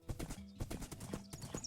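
Horse hooves clip-clop at a steady walking pace while riding through a forested area in Minecraft, the hoofbeats repeating close and fairly loud with no talk over them.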